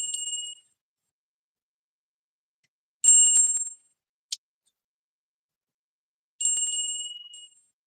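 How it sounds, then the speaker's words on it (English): A small bell struck three times, each a bright ringing tone that decays over about half a second, with a single tiny click between the second and third strikes and silence around them. "We're going to ring the bell."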